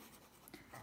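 Chalk or pen scratching briefly across a board, a short close rasp of writing.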